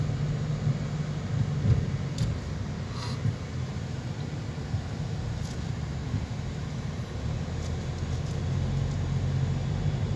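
Steady low rumble of city street traffic at night in Makati City, a continuous broad wash of passing vehicles with no distinct horns and no talking.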